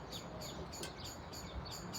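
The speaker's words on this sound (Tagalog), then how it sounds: "maraming mga ibon dito" Birds chirping at a conservation area near a bridge, repeated short high calls in quick bursts over a steady outdoor background hum, fairly faint and distant.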